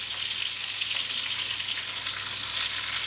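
Chicken pieces sear skin-side down in a pot, giving a loud, steady sizzle and crackle of hot fat that runs unbroken from start to finish, with no voices.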